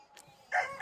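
A rooster gives a short, faint crow at some distance, with a quiet background before the brief call.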